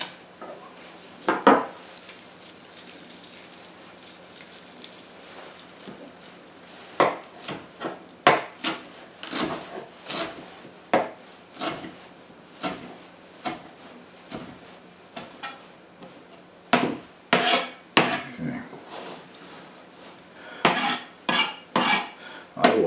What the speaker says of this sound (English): I will chop on this for a while and bring you back once I think I have it chopped up fine enough here.